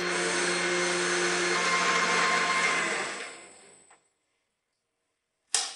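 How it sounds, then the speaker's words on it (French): An electric mixer whips Swiss meringue for buttercream at high speed, a loud steady whir that winds down and stops after about three seconds, followed by silence and a short knock at the end. "Tirez la vitesse et fouettez jusqu'à ce que la meringue soit douce."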